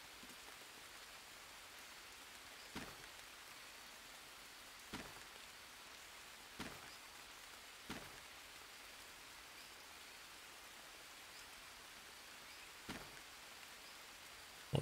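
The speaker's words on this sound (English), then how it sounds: "here, have some rain" Soft, steady rain falls in the jungle survival game Green Hell, a faint even hiss with a few brief louder drops or taps now and then, no voices.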